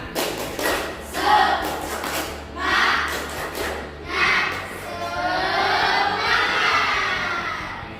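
A classroom of students performing a rhythmic spirit clap chant, bursts of group clapping in a pattern with shouted chanting voices, ending in a sustained collective call.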